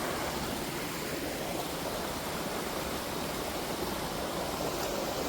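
Flowing stream water rushes steadily during heavy Konkan monsoon rain, a constant close, dense wash of noise with no pauses or voices.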